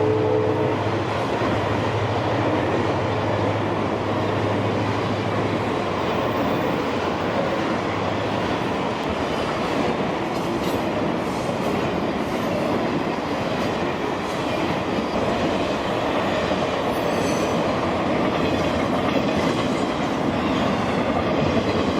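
The Ringling Brothers and Barnum and Bailey Blue Unit circus train rolls across the Hillsborough Canal Bridge near Deerfield Beach, a loud, continuous rumble of wheels and cars with steady rhythmic clatter, close by and unbroken throughout.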